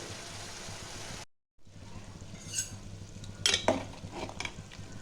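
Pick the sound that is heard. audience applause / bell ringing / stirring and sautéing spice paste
stirring and sautéing spice paste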